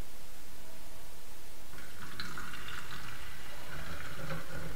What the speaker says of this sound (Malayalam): ഇത് നമുക്ക് ഈ ഒരു സ്പ്രെയർ ബോട്ടിൽ ഇതൊന്ന് ഒഴിച്ചു കൊടുക്കാം